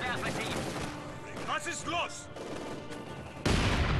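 Enemy mortar fire in Company of Heroes 2 pounds out as a series of booming explosions amid ongoing battle noise, with a louder blast near the end; a voice talks over part of it.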